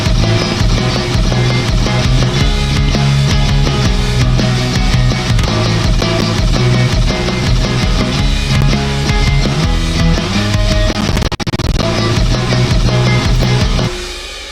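A loud, dense full mix of a midwest emo trap J-rock song plays, with layered compressed guitars, an 808 bass and drums driving steadily before the sound drops off at the very end.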